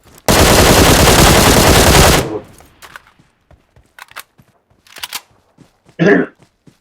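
Video game gunfire: one loud, continuous burst of rapid automatic fire lasting about two seconds, then scattered quieter in-game clicks and thumps, and another short sharp burst near the end.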